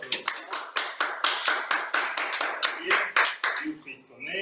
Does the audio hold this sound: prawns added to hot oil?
no